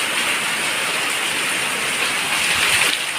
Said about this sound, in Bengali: কত সুন্দর বৃষ্টি হচ্ছে।